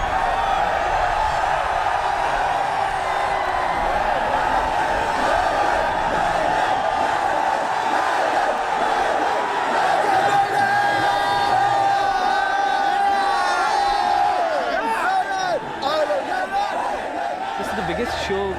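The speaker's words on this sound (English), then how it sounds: "I don't think you'll hear a louder crowd anywhere in the world" A huge crowd of Indian metal fans roars and chatters continuously before a concert, a dense sustained wall of voices with whoops and cheers rising throughout.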